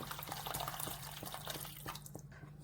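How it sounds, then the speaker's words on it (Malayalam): Hot water poured into tomato rasam, a soft splashing, dripping stream close by with a low steady hum underneath, easing off toward the end. "ഞാൻ ഇവിടെ ചൂടുവെള്ളമാണ് ഒഴിക്കുന്നത്"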